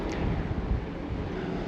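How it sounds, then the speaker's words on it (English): Wind buffets a microphone on the open deck of the Carnival Spirit cruise ship, a steady low rumbling roar with no voices, continuous and close. "although it's a little windy out here"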